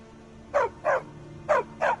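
Dog barking in the Skyrim video game: four short, evenly spaced barks in two pairs, clear and fairly close over a faint steady background hum.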